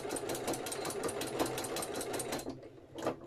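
A domestic sewing machine stitching a short back stitch through a quilt-as-you-go needle case at the top edge of lace, a steady rapid rattling whir that slows and pauses, then starts again briefly.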